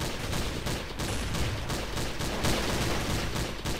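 Dense gunfire in Counter-Strike: Source during a gun game match, a steady stream of shots packed together so closely that the whole stretch sounds like one continuous volley, with no voices over it.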